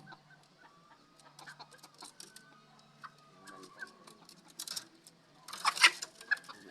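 Bantam chickens, a hen and a rooster, cluck softly in a backyard, with scattered quiet clucks and rustles that build to a louder burst of flapping or calls near the end, no talking.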